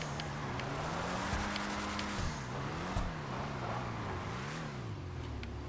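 A Lampadati Viseris sports car drifts in GTA 5 Online. Its engine drones loudly and continuously, with pitch rising and falling as the throttle is worked, under faint tire noise and no talk.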